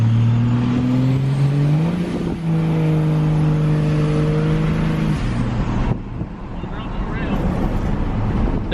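A 2004.5 Cummins diesel pickup truck with a muffler cruises along, its low engine drone rising and shifting through gear changes, with wind noise and a voice talking over it.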